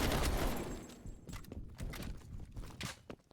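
AK rifle gunfire in Call of Duty: Black Ops Cold War, opening with a loud burst of shots that fades into scattered, quieter cracks and thuds, with no voices over it.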